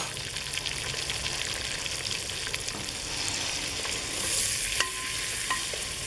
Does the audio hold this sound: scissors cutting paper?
no